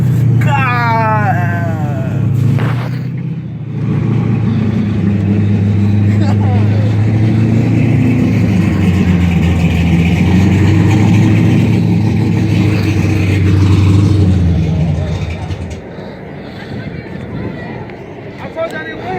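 A 6.1 liter car engine revs at a Texas car show, a loud, deep, sustained rumbling roar that swells and holds under voices and outdoor crowd noise, then drops away near the end.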